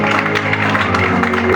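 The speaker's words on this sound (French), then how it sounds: "Acclamez la parole du Seigneur." A church congregation applauding during a French-language service, a brief, steady burst of clapping from many people, with voices mixed in under the applause.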